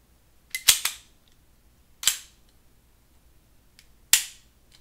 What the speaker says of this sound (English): you're not supposed to be dry firing it